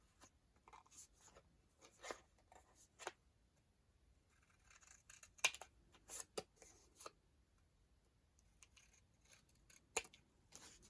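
Craft scissors cut paper for journal cards and a snippet roll, giving scattered quiet snips and rustles with irregular gaps between them, close but faint, with no talking.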